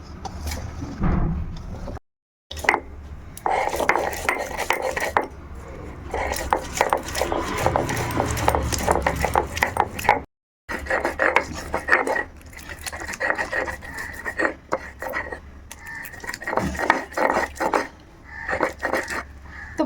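Garlic, tomato and cashew crushed into paste on a grinding stone, with repeated scraping, knocking and rubbing strokes in an uneven rhythm, close by and fairly loud, broken by two brief silent gaps.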